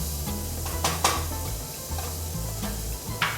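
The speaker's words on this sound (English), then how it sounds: "add just a teaspoon of olive oil in our sauce pot with about 1/4 cup of onions" Onions sizzle in a teaspoon of olive oil in a sauce pot for a healthy tostada, a steady soft frying hiss broken by a few sharp stirring clinks, with no talk.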